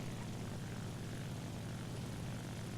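A Breda Ba.65 aircraft engine in War Thunder drones as a steady, even propeller roar that holds constant throughout, with no voices.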